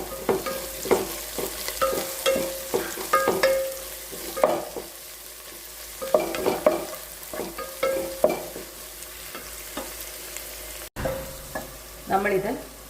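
Onion, green chili, carrot, potato, garlic-ginger paste and a little coriander leaf sauté in a pan, with repeated scraping stir strokes over a steady sizzle, close and fairly loud, with no voices.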